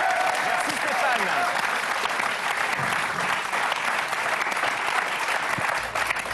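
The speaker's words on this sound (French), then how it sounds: "En tout cas, on l'applaudit," A French television studio audience applauds a guest, a loud sustained wash of clapping that holds steady for several seconds before easing slightly at the end.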